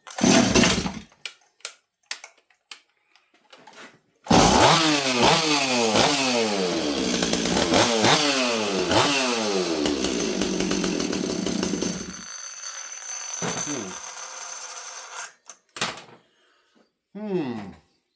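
A Stihl 026 chainsaw with a hot cylinder during carburetor tuning, a few short blips followed by a long, loud run with repeated revving, then it drops off and a couple more brief bursts.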